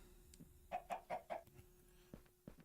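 Chickens in StoneBlock 4 give a quick run of four soft clucks followed by a couple of scattered bwawk sounds, faint and close over a low steady hum.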